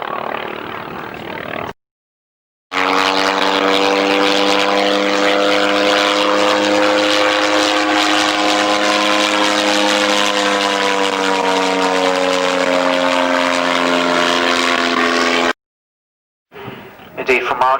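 Vintage Storch and LVG aircraft fly overhead at Old Warden, a steady, loud propeller engine drone with a sustained tone that shifts slowly in pitch, broken by two short silent gaps.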